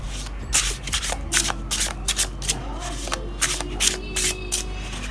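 A deck of tarot cards is shuffled by hand in repeated crisp riffles and slides, close and steady across the whole stretch, with no talking.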